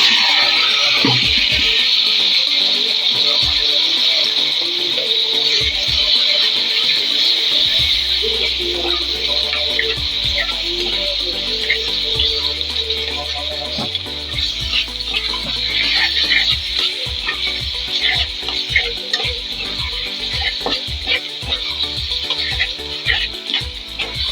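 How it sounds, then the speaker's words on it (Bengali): Taro leaves fry and get stirred in a pan for a prawn dish, giving a steady, close sizzle broken by frequent scraping stirs throughout. "এখন আমি কচুটা দিয়ে দিব"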